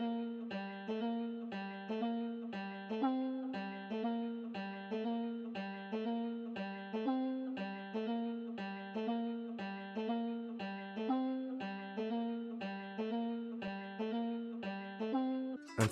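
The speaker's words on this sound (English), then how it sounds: "Then for the next thing I used my rear guitar and I laid down this simple melody." Rear guitar playing a simple, repeating melodic figure as background texture in a trap beat, steady plucked notes in an even rhythm throughout, moderately quiet with no voices.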